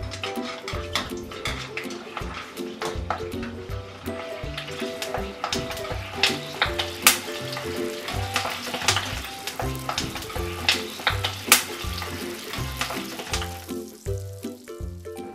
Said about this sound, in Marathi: आता आपल्याला ह्या मिरच्या सुद्धा तळून घ्यायच्या आहेत